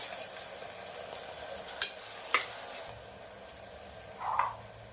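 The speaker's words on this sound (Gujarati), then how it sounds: "હવે આપણે આને થોડું સાંતરી લેશું" Chopped capsicum sautéing in oil in a pan, a soft steady sizzle with a few sharp pops and a brief clatter, no talking.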